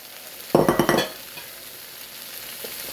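Beef with carrots and peppers stir-fried in a pan, a short loud burst of sizzling and scraping that fades into a quiet, steady background hiss.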